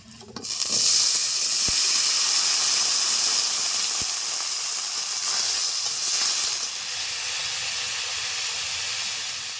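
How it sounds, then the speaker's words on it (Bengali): Potatoes fry in a little leftover oil in a wok, giving a loud, steady hiss and sizzle that holds for the full stretch, with a few faint clinks of utensils. "ভাজার পরে কড়াইতে সামান্য একটু তেল রয়েছে এই তেলে আলুগুলোকে ভেজে নিচ্ছি"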